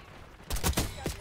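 Gunshots in a multiplayer shooter video game: a short, loud cluster of rapid shots after a quieter lead-in, fairly close and slightly muffled.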